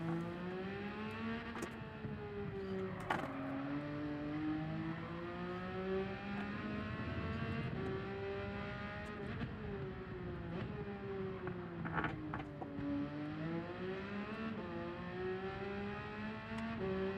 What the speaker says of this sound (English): Listen to that right there, the gears screaming at us